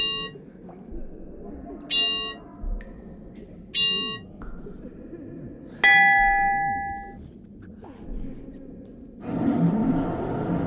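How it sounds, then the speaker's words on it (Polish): A bell rings in a pattern of three short strikes followed by one longer ring inside the Sherlock Holmes Awakened video game, bright metallic tones evenly spaced over soft background ambience, ending with a low rumbling mechanism. "3 krótkie dzwonki, a następnie 1 długi."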